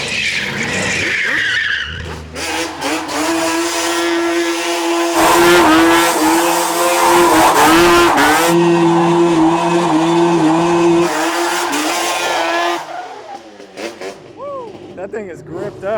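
A Corvette does donuts with its tires squealing long and loud as the engine revs hard, the screech sustained for many seconds before it fades; voices are heard over the noise.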